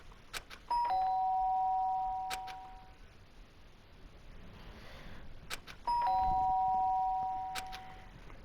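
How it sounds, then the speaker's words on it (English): In the Danganronpa video game, a doorbell gives two clear electronic ding-dong chimes about five seconds apart, each ringing bright and loud before fading over a quiet room tone. "The sharp sound of the doorbell pierced my sleepy haze and pulled me back to the real world"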